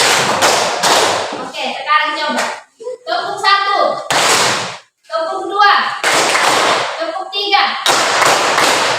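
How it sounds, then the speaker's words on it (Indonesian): Hands clap in a classroom clapping game: bursts of loud, sharp group claps in counted sets, separated by a teacher's spoken instructions and short pauses. "sekarang coba tepuk satu, tepuk dua"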